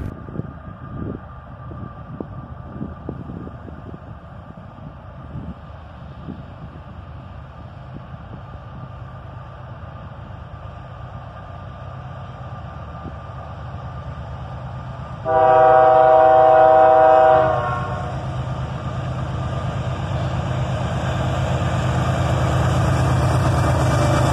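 BNSF freight train with an ES40DC and AC44CW accelerating past a signal near Carlisle: rumbling diesel locomotives build steadily, with a loud horn blast mid-way, then rising engine roar as the train pulls close.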